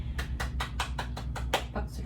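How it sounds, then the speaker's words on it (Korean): A small audience at a Korean book concert claps for a professor in a steady rhythm, about eight distinct, evenly spaced claps over a low hum, close and moderately loud. "박수를 드립니다"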